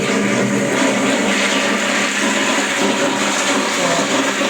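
An Indian-style flush seat in a newly plumbed bathroom flushes with a steady, loud rush of water that holds constant, close to the microphone, with no voices.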